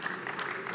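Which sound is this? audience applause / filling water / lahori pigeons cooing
audience applause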